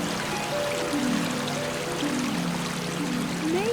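A distant waterfall rushes in a steady, unbroken wash of water noise, with soft musical tones drifting over it.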